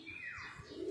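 A single pigeon coos nearby, a soft low throaty call with a faint chirp mixed in against quiet background.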